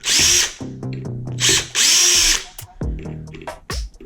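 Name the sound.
power drill removing screws from a ceiling fan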